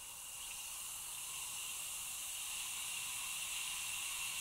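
Steady bright fizzing hiss of Alka-Seltzer tablets dissolving in water, close and continuous, slowly building in intensity with no voices.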